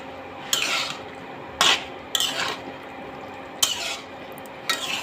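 Utensil scrapes against a pan while lightly stirring a radish, eggplant and egg curry with coriander leaves, four or five sharp metallic strokes spaced over a soft background sizzle, close and clear with no voices.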